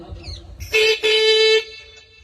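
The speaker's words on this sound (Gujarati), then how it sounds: "એકવાર ગાડીનું હોરન હભળાઈ દેજો" Two loud, close car horn honks in quick succession, a short blast followed by a longer one, then quiet.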